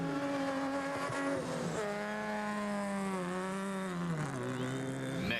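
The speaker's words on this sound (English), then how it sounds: "a string of cars led by the back-in-action Chris Visser and Jaapie Badenhorst ploughed their way through the obstacle without any undue problems" Rally cars on the Toyota 1000 rally plough through a muddy obstacle, their engines revving and falling through the gears in a loud, sustained drone at close range.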